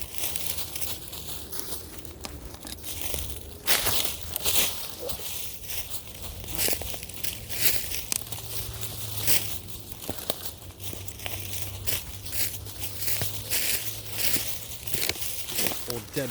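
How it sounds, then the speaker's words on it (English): Footsteps crunch and crackle through dry leaves and twigs at an irregular walking pace, close by, with faint talking underneath at times. "So I'm gonna walk around a little bit more."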